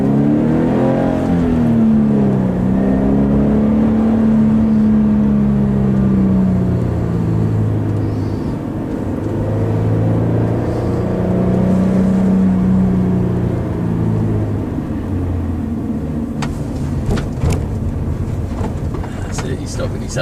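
A car accelerates along a road during a test drive, its engine note rising and falling in a steady near rumble that carries on for the whole stretch.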